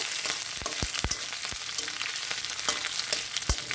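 Dried phasa fish fries in oil in a pan with a close, steady crackling sizzle broken by repeated sharp spatula taps and scrapes at an irregular pace.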